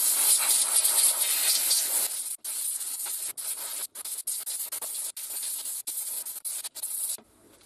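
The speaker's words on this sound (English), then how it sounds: "I'm just going to jet it over the steam cleaner" Steam jets from a steam cleaner onto a carburettor with a loud, broad hiss, first continuous, then broken into bursts by brief cutoffs, before stopping abruptly near the end.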